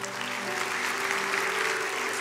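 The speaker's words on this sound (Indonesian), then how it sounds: "kasih tepuk tangan untuk Tuhan Yesus" A church congregation at a sermon breaks into sustained, even applause. It sounds close and full from start to finish, with a low tone humming underneath.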